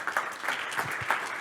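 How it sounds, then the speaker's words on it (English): An audience at a health tech startup pitch event applauds after a presentation, with brisk, fairly close clapping that pulses slightly over a short stretch and has no talking over it. "round of applause for David Blanco."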